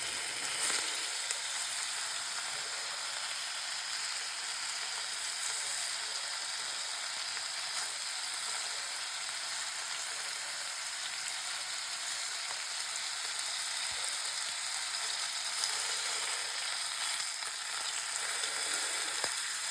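Bacon sizzles steadily in a skillet, a dense, even crackling hiss that holds for the whole stretch without pause or talk.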